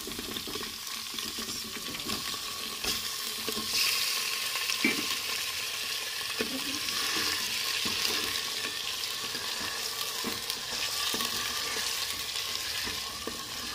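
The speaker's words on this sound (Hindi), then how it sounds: "ये चिकन जिसे मैंने धो के कढ़ाई में रख दिया है। इसका पानी जो एक्स्ट्रा पानी है वो भी निकल जाए।" Freshly washed chicken pieces sizzle in a kadai (wok) as their extra water cooks off, a steady, loud hiss for the whole stretch with a few soft scrapes and clinks of stirring and no talking.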